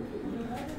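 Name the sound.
pigeons cooing while being stamped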